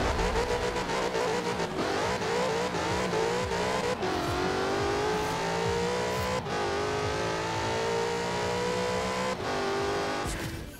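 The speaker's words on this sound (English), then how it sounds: "first gear bounced rapidly off the rev limiter, second bounced but a little slower, and we finally have caught traction in third gear" A rear-wheel-drive car in Forza Horizon 4 launches hard, its engine bouncing rapidly off the rev limiter in first gear, then stuttering more slowly in second before catching traction and pulling through the gears, loud and continuous with no talk.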